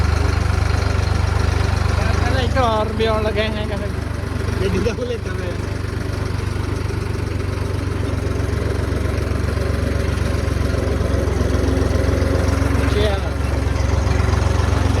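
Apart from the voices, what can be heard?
tractor engine running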